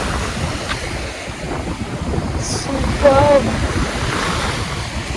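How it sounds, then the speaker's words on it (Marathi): Sea waves wash onto a beach under steady wind, a continuous broad roar with a gentle surge midway, close and fairly loud, with a brief voice heard over it. "समुद्राच्या लाटांचा आवाज"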